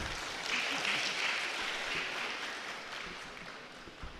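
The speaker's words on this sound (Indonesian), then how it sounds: "Aplaus dulu kepada Pak Edi Ivan." Audience applause at a ceremony for the handover of the head of RRI Makassar, a steady wash of clapping from a crowd, fairly distant and moderate, fading slightly toward the end with no voices over it.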